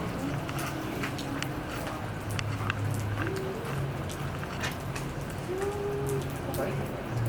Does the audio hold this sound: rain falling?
yes